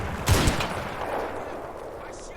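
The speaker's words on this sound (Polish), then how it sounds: "Headshot z rusznicy." A single anti-tank rifle shot in the war game Combat Mission, a loud sharp crack followed by a fading rumble, with a second burst just after.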